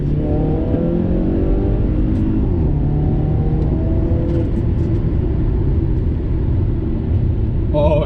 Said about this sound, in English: I love how you can hear the turbo spool as well.